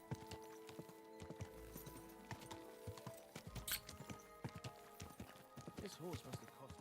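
Horse hooves clip-clop steadily on the ground in the video game Kingdom Come: Deliverance 2, a rhythmic run of hoofbeats with a brief whinny, under soft game music and occasional speech.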